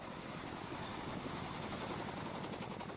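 A low-flying helicopter over the Lake of the Ozarks during a helocasting jump exercise gives a steady, dense rotor thump and engine roar, continuous and close, with no voices.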